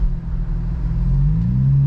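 A Lexus IS200 engine rumbles steadily with a low, rising revving tone during a burnout, loud and close, with no voices.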